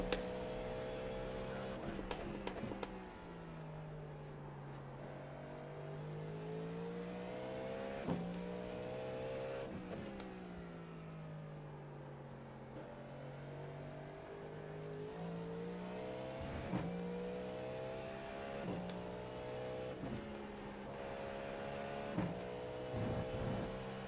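A race car at the 6 Hours of Watkins Glen endurance race, heard from on board, with a steady engine drone rising and falling through repeated shifts and revs and several sharp transient knocks.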